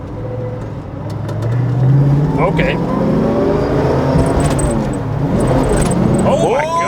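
A 1970 Ford Mustang Mach 1 accelerates hard through its gears, the engine note climbing in loud rising sweeps with a shift between them, heard from inside the car with people talking over it.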